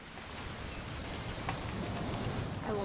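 Rain falls steadily in What Remains of Edith Finch, a soft broad hiss with occasional drop clicks, continuous and even at low to moderate level.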